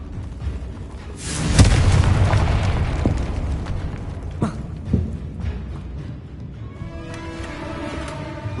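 A fiery Confringo spell blast from the Hogwarts Legacy video game bursts loudly with a deep boom, then rumbles and crackles away, followed by smaller pops and a bright magical shimmer.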